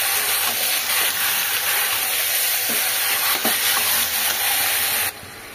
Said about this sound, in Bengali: প্রথমে চিকেনটা পেঁয়াজ দিয়ে একসঙ্গে ভালো করে একটু ভেজে নেব